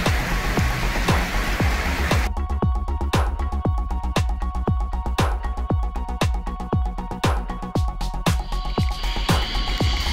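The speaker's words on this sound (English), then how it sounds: "Pretty heavy rain" Heavy rain pours steadily and loudly in an outdoor setting in Mauritius, a dense continuous hiss punctuated by regular sharp drips or drops striking a nearby surface, with no voices.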